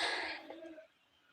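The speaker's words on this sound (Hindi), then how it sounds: "खांसी आवे लगी।" A single cough sounds close to the microphone and fades out. After a short silence, a sharp, loud burst follows at the end, with no speech.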